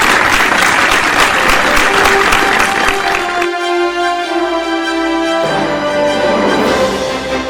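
A large audience claps loudly and continuously for an award winner at a scientific award ceremony, dense applause throughout with sustained music tones entering partway and continuing underneath.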